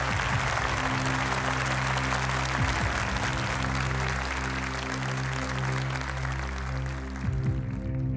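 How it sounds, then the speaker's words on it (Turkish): Studio audience applause for a contestant on a televised Quran recitation competition, a steady dense patter of clapping over a loud sustained musical drone for the whole stretch. "güçlü alkışlarınızla Muhammed Esed Can."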